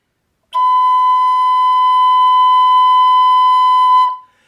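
A Native American flute sounding one steady high note with the common fingering, pure and breathy, held loud and close for about three and a half seconds and then stopping.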